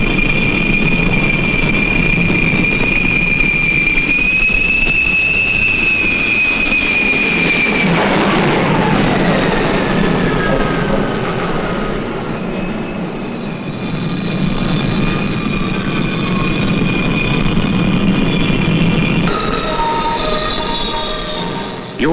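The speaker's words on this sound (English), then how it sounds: "You are coming into the slot for a jet landing on the USS Forrestal" A jet aircraft roars in on approach to land on the carrier USS Forrestal, a loud, sustained engine drone with whining tones that shift partway through.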